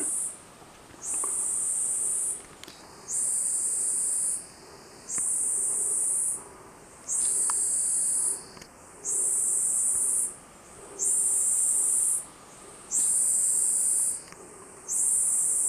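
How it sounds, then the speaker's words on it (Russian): Cicadas drone in a rhododendron forest on an Annapurna-area trek: loud, high, buzzing pulses of about a second each, repeating steadily with short gaps, and a sharper tonal whine under some of them. "Это рододендроновый лес. Вот послушайте, цикад."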